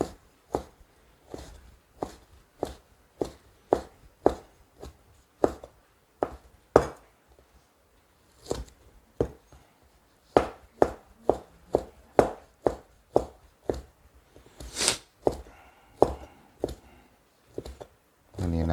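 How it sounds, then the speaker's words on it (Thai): A knife chops pork heart on a board in steady, sharp, close strokes, about one every half second, with a few brief pauses and some quicker, clustered chops near the end. "มาซอยหัวใจก่อนเลย"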